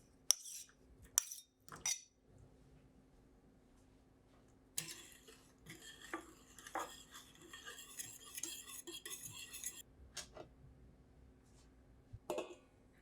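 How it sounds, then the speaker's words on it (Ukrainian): Milk mixture with salt, sugar and butter stirred in a bowl, with sharp spoon clinks against the side followed by a longer stretch of steady scraping and swirling, close and fairly quiet, no speech. "Перемішайте до розчинення цукру і розтоплення масла"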